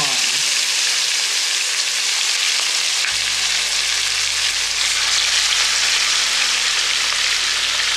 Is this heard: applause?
no